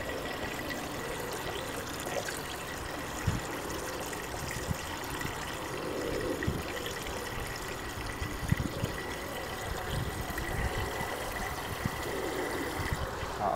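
Water gushes steadily into a container outdoors at a bushcraft campsite near a fire, a continuous close splashing and trickling flow that carries on unbroken and ends as it is cut off.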